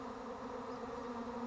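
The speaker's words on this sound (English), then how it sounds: "it's still a lot of bees airborne" A swarm of honeybees flies overhead, their dense, steady buzzing drone holding even and close throughout the short moment with no other sounds.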